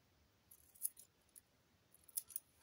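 Scissors make a few faint, quiet snips as paper is cut straight for a collage book cover, short crisp clicks spaced irregularly in a near-silent room.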